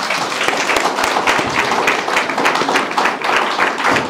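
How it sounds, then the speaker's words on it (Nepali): A church congregation claps together at a 17th anniversary celebration, a dense, steady wash of many hands applauding close by for the whole stretch. "पास्टर डाक्टर तेज रोक्काज्यूलाई हामीले ताली बजाएर धन्यवाद"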